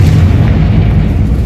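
Confringo spell blast in Hogwarts Legacy: a heavy, booming low rumble that fills the moment, loud and sustained like a close explosion without a sharp start or finish.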